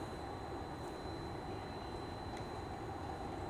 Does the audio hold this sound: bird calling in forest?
no